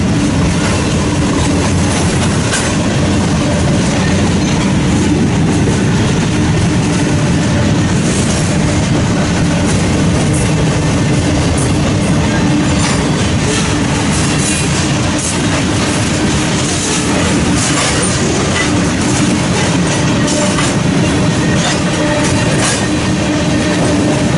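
A long eastbound manifest freight train in Fremont, Nebraska rolls steadily past up close, a continuous loud rumble with rhythmic wheel clatter and occasional metallic squeals throughout.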